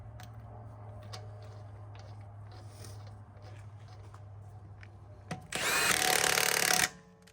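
An impact power tool rattles briefly and loudly, tightening lug bolts during a brake job on a 2016 Jeep Wrangler, after a quieter stretch of low hum and small clicks.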